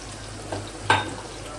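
Boiled, chopped potatoes, crushed garlic and tomatoes cooking in a pan of oil for a spicy curry: a soft, steady sizzle broken by a couple of brief clinks and stirring scrapes.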